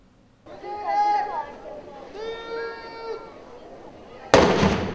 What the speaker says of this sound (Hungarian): Ágyúszóval vette kezdetét a lovagi torna, mely emlékeztetett a dicső időkre.